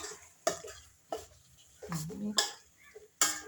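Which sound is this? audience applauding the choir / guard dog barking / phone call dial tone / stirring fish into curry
stirring fish into curry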